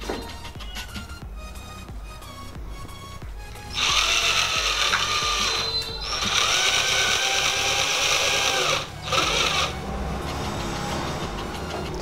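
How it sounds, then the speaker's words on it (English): A small power tool whirs in several sustained bursts with brief pauses while a nut and bolt are fitted to a homemade automatic rotating globe, close and fairly loud. "So now I am going to fit the nut on this globe."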